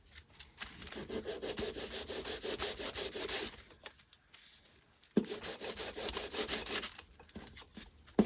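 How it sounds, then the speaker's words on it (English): Sandpaper rubs back and forth over the front of a playing card in quick, even rasping strokes, close and clear, two runs of strokes separated by a short pause. "I just like to sand the front because I like it that way"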